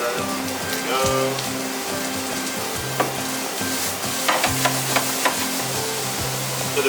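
Peppers frying in a pan for ratatouille give a steady, close sizzle, with occasional clinks and stirring scrapes over a looping low background tone.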